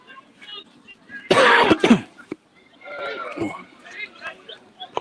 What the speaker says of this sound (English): Quite a few coughs and colds knocking around.